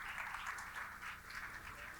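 Audience applause at a tourism industry seminar panel discussion, a steady wash of clapping from a seated crowd, fairly faint and distant, sustained without a break.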